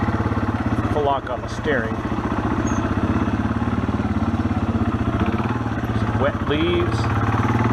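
A Yamaha XT225 trail motorcycle engine runs close and loud at low revs on a leafy slope, a steady thumping throb with slight throttle swells while someone talks over it.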